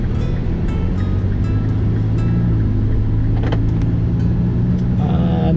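A BMW Mini Cooper S with a Liberty Walk works widebody kit on 18-inch low-profile tyres, its engine droning steadily from inside the cabin with road rumble, loud and continuous, with a brief voice near the end.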